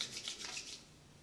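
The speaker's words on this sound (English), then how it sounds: "I'm just going to rub that in my hands" Palms rubbing styling balm together, a short, soft, close swishing friction that fades within about a second.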